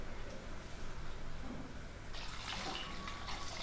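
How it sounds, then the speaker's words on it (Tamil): Water is poured into a pot of tamarind kuzhambu made with manathakkali berries, a faint steady trickle that grows into a brighter splashing pour over the last second and a half. "இப்போ தேவையான அளவுக்கு தண்ணி நம்ம சேர்த்து கலந்து விட்டுறலாம்"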